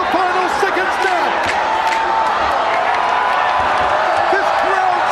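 A large arena crowd at a ONE Championship fight roars and cheers a victory in the final seconds, a dense, loud, continuous wash of voices with scattered whistles and a commentator talking over it.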